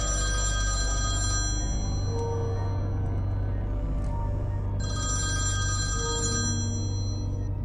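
A telephone bell rings in two long bursts separated by a short pause, loud and steady over a constant low hum, with no voices present.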